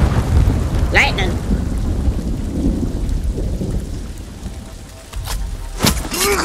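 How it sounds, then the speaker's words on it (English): Thunder and lightning during a storm in Ghost of Tsushima, the game: steady rain hiss under rumbling thunder, with sharp lightning cracks near the start and again toward the end, loud and close, no talk. "Lightning!"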